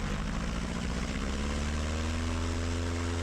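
Steady, loud drone of a Piper Super Cub's piston engine and propeller, running continuously with a strong low harmonic hum and no talking.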